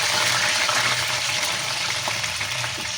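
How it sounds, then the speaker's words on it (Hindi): Steady rushing of water poured into a pan for traditional pumpkin halwa, a continuous broadband gush lasting throughout at close range. "अब हमने इसमें पानी डाल दिया।"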